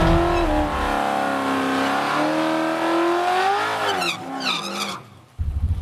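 A Camaro with a new LS V8 engine revs steadily at high pitch for several seconds, near 6,900 RPM, rising and then dropping off through quick gear shifts, loud and close.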